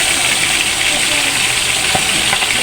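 Loud, steady sizzling and bubbling of snails cooking in a hot pan with oil, continuous throughout with occasional light stirring clinks.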